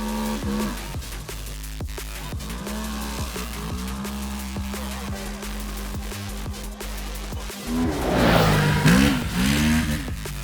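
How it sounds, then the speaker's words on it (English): A Segway ATV Villain side-by-side buggy engine drones steadily with repeated rev swells, then climbs into a louder, harsher acceleration near the end; no voices. "This performance is accompanied by a very pleasant sound of the engine."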